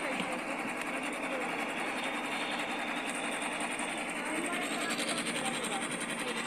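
A sewing machine runs steadily with a fast, even mechanical whir of bobbin and needle bar, fairly quiet and continuous, with a voice talking faintly over it.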